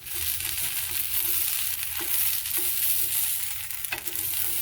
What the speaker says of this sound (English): All right, first one's ready to flip.